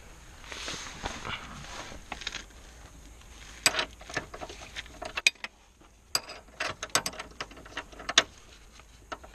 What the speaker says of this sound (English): Well, back to the wrench.